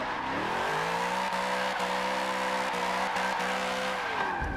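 A car drifts in Forza Motorsport 7, its engine holding a steady, droning note beneath tire squeal for about four seconds before easing off, loud and close with no voices.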